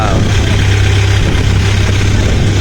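A fishing bangka's marine engine drones steadily up close, loud and continuous with a deep, even low-pitched hum and no change in pace.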